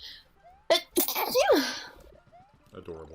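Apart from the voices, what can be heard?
person sneezing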